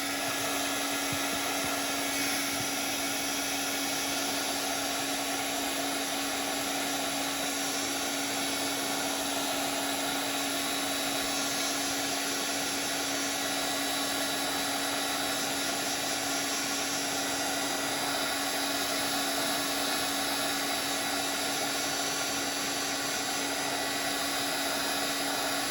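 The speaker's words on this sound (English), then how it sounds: "now I'm going to hit it with my heat gun just to dry it a bit" A handheld heat gun blows hot air to dry paint on a paper postcard, giving a steady, close, loud whirring hiss with a constant motor whine that holds unbroken throughout, with no talking.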